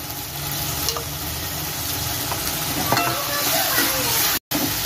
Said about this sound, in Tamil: அடுத்ததான் இஞ்சி பூண்டு விழுது சேர்த்துக்கலாம்.